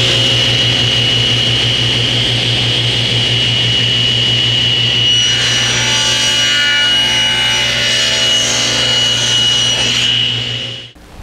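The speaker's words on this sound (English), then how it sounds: "I'm going to use my table saw sled, and I set my blade depth to so that the blade will only cut through the cherry and leave the walnut" Table saw with a sled cutting through a joined piece of cherry and walnut wood, a steady loud motor whine throughout with a rougher cutting band from about five to ten seconds before the blade winds down.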